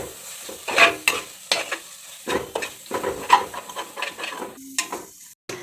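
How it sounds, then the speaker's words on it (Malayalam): Masala and garam masala are stirred and mixed in a pan for tomato rice. Irregular scraping strokes of a spoon against the pan come over a soft sizzle, close and clear, with short pauses between strokes. "എല്ലാം കൂടെ നമുക്ക് നന്നായിട്ട് മിക്സ് ചെയ്തെടുക്കാം."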